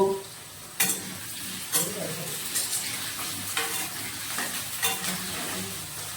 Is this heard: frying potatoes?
yes